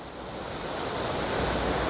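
Falling Springs waterfall in heavy flood flow, a roadside cascade making a dense, continuous roar of rushing water that swells slightly louder toward the end.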